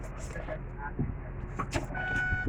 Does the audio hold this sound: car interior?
yes